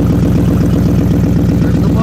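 A 1996 Mercury Grand Marquis idles with straight headers and no muffler or exhaust, giving a loud, steady, rapid low-pitched pulsing rumble close by.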